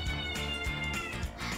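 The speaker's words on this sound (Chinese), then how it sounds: "我们家猫在外面叫。" A house cat meowing outside a bathroom door, a drawn-out, wavering cry heard close but muffled, repeating over a second or so.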